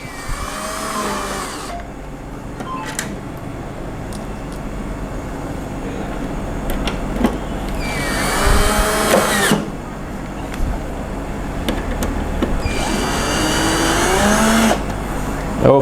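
A power tool tightening nuts during a reassembly job, three short whirring bursts that rise and fall a few seconds apart over a steady background hum, fairly close, with no talking.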